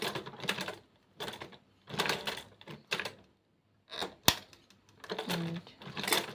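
A sewing machine runs in several short bursts of stitching and backstitching on a bag's wooden bamboo handle, close and moderately loud, with pauses in between and brief talk mixed in.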